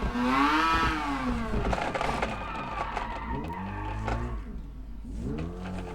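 A Mazda Cosmo Sport in a racing game mod slides through corners, its engine note rising and falling in loud sweeping revs with tyre scrub beneath, alone without talk.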